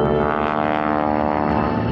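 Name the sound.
Stearman biplane engine climbing during airshow aerobatics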